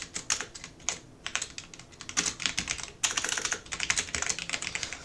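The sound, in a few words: typing on computer keyboard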